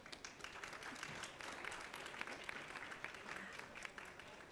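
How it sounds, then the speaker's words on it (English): An audience in a conference room gives a round of applause for panelists, heard as a steady, fairly faint, even patter of many hands clapping for several seconds. "Let's just have a quick round of applause for our panelists."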